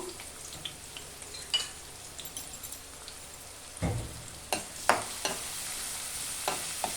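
Onions and green chillies fry quietly in hot oil in a pan with a soft, steady sizzle, broken by a few sharp scrapes and knocks of a stirring spoon.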